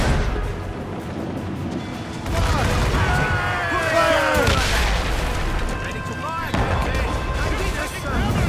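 Ship cannons in the Assassin's Creed game fire in a rumbling barrage of heavy booms, with whistling projectiles and a loud blast near the end, while a voice talks over the battle.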